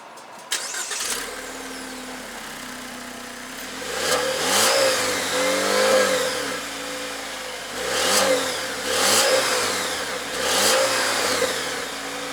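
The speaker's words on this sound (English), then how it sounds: "it's the 4-cylinder engine, so let me let you guys hear what that engine sounds like real quick" A 2019 Jeep Wrangler's turbocharged four-cylinder engine starts, then idles and is revved in several rising and falling bursts, heard up close and loud with no talking.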